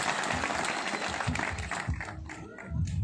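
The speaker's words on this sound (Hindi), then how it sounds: "जोरदार ताली साथ में स्वागत करें।" A crowd at an outdoor political rally in Kawardha, Chhattisgarh, applauds steadily with dense clapping that thins slightly toward the end, fairly close and without talk over it.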